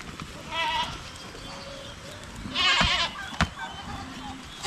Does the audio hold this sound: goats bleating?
yes